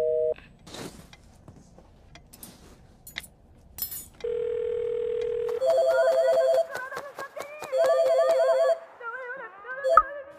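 Telephone tones heard when a call is cut off: a steady flat tone, then repeated pulsing beeps mixed with other electronic sounds, fairly loud and with no talking.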